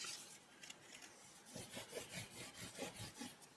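Paper pocket in a scrapbook album burnished flat by hand, giving soft, close rasping rubs that start faint and become a steady series of quick, rhythmic strokes.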